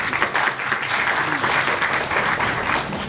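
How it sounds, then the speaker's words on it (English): An audience gives warm, continuous applause for a bank sponsor at an event session, many hands clapping in a full, steady roar that stays loud from start to finish. "Please help me give them a warm applause."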